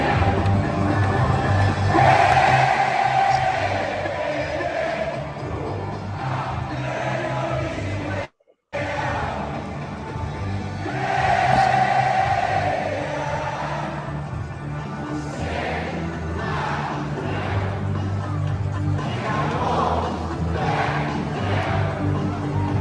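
A huge LSU football stadium crowd at a night game sings along loudly and continuously, a dense roar of voices with a brief cutout partway through before the singing swells again.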